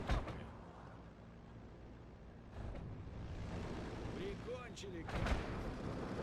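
Mortar rounds in the World War II strategy game Steel Division 2 go off as muffled, distant thuds under a dense battlefield rumble, with a couple of stronger booms and a faint whistling sweep; a voice speaks over it.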